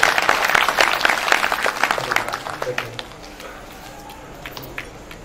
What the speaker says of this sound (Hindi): सब लोग ताली बजाओ भाई इनके लिए।